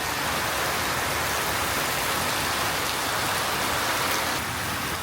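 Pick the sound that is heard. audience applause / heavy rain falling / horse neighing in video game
heavy rain falling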